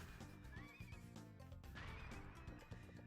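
A playful horse whinnies in an N64 video game, a bright rising neigh cutting through steady game music that plays without a break beneath it.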